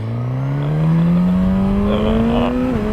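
A 2022 Suzuki GSX-S1000 motorcycle engine revs loudly and up close, its steady tone climbing in pitch over a few seconds before dropping off sharply near the end.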